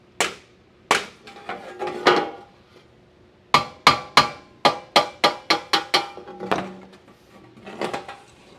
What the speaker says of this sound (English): Let me tap this with our love hammer.